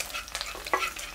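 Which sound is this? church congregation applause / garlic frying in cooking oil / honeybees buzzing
garlic frying in cooking oil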